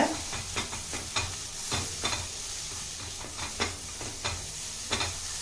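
Garlic sautés with salt in a covered pan over a low flame, giving a steady close sizzle. Regular scraping strokes of a spoon repeat roughly every half second, and no one speaks.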